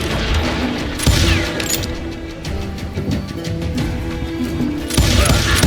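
Gunfire in the Western shooter video game Call of Juarez, with dense bursts of shots and heavy booms that run loud and continuous, with sharper blasts near the start and end.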